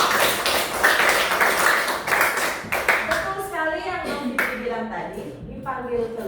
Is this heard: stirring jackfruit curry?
no